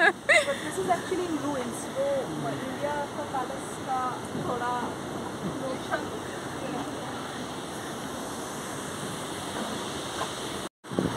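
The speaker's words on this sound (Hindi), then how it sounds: "ये पानी ऐसे ऊपर से आ रहा है, जा रहा है नीचे" Water tumbles steadily down a slope near Heidelberg Castle, a continuous broadband rush heard close by, while people talk over it throughout.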